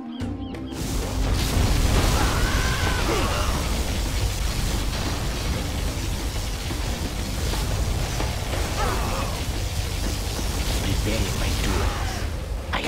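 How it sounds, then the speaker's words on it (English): A particle cannon blast in the real-time strategy game Command & Conquer Generals Zero Hour: a sustained, loud roaring energy discharge with rumbling booms and crackling bursts, running for several seconds over game music and voice lines. "releasing particle cannon."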